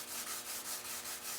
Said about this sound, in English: I'm not over sanding. I am using a block just to make sure I feather it well.